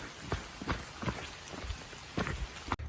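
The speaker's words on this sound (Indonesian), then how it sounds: "Dengar gak suara hujan?" Steady rain hisses on a forest trail descending Mount Sindoro via Alang-Alang Sewu, with a rhythmic thud of footsteps close by and a sharp knock near the end.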